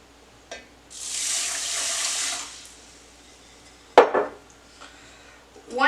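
A kitchen tap runs into a measuring cup for about a second and a half, followed by a sharp clink and light clatter of kitchenware, all close and fairly quiet.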